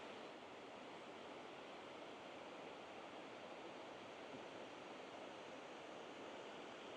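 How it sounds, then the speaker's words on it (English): River water flowing steadily along the River's Edge Trail in Great Falls, Montana, a continuous broad rushing wash that stays even and unbroken throughout, with no voices. "A lot of water flowing here."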